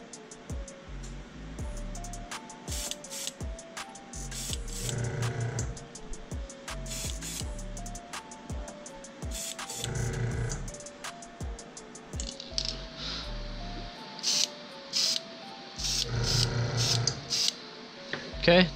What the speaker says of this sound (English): we're just gonna angle it, and we're just gonna give it a good spray